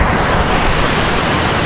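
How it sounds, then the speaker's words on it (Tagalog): Strong sea waves surge and wash over the shore in a steady, dense roar that fills the whole moment without a break and drowns out any other sound. "Strong waves"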